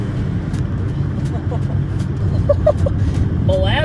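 A car launches in second gear with its transmission fluid replaced by molasses, producing a low, rumbling engine drone that swells slightly. Someone talks over it near the end.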